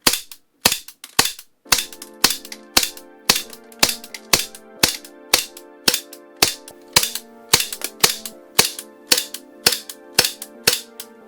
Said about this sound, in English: And it's still got gas. It's still firing.